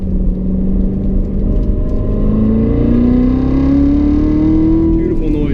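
A Corvette Z06 with a manual gearbox, driven on a figure-eight track, gives a loud, close engine roar from inside the car that climbs steadily in pitch as it revs through a gear.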